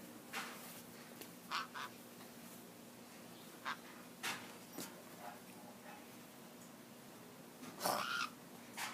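A pet bird gives brief, faint calls and squawks scattered at irregular intervals against a quiet indoor background, with one louder call near the end.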